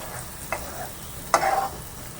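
Masala frying in oil for a jackfruit and potato curry is stirred with a couple of short scrapes over a faint, steady sizzle, close and fairly quiet.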